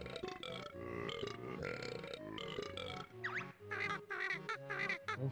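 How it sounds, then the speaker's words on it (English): A cartoonish pirate hippo in the Banjo-Kazooie video game lets out a string of loud, wet, gurgling burps in choppy bursts, alone and quite close. "Ew, he's burping."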